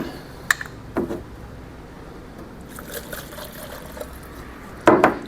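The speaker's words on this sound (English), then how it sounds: "And then I take the acetone, pour it in this cup" Acetone pours into a cup with a light, trickling splash, preceded and followed by a few sharp clinks and taps, close by and moderately quiet.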